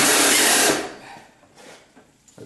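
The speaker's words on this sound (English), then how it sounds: "Impact wrench." An impact wrench fitted with a long 18 to 20 inch extension, used on a 1976 Corvette front crash bumper, gives one loud, close, steady whirring burst of under a second, then cuts off into quiet.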